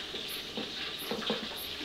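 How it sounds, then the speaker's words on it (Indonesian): Boiled chicken frying in hot oil gives a faint, steady sizzle, broken by a few soft stirring scrapes. "Sekarang kita goreng ayam."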